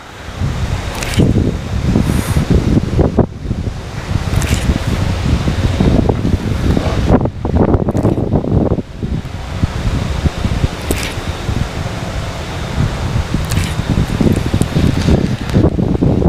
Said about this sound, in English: the wind is really ripping